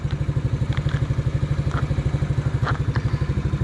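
A Yamaha YFM80 ATV engine idles slightly high close by with a fast, even chugging pulse, running steadily with faint rattles and ticks on top.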